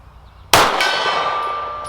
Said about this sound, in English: Let's start with the silver gong